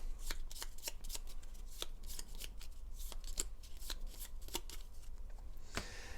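Gloomhaven board game cards being shuffled up close, a quick run of crisp riffling snaps and soft slaps repeating steadily over a few seconds, fairly quiet with no talk.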